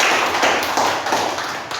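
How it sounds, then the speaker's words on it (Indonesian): Brief, dense clapping fills a classroom in applause for two students, with a steady wash of hands throughout and no talk. "Tepuk tangan buat Mbak Astrid dan Mbak Daryl."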